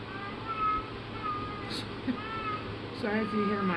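A cat meows several times, drawn-out and plaintive, at moderate distance under someone talking.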